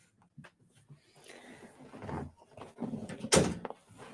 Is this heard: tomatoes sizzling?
no